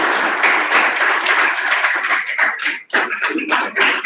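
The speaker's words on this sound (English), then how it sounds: "The students are giving you a big round of applause to the presenter of today's lecture" Lecture students give the presenter a big round of applause: dense, steady clapping that thins into scattered separate claps toward the end, with no talk.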